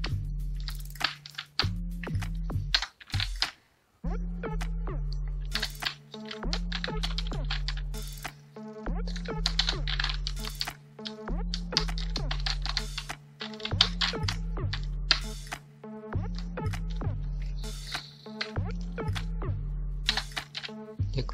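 Steady keyboard typing at close range, an unbroken run of quick keystrokes with brief pauses as a date is entered into a Photoshop banner design; no voices.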